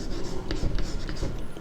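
A pen scratches steadily across paper while a coordinate geometry problem is worked out, a close, continuous scribbling with small strokes and pauses.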